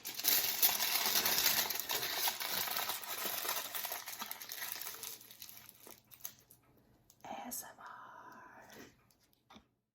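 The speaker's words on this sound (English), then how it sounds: "Let's crumple up some tin foil." Tin foil being crumpled up by hand, a dense crinkling rustle that fades and stops, followed by a short separate crackle, with no speech over it.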